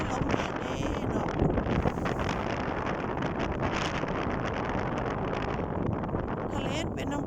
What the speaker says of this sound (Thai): ลมแรงเด้เนาะ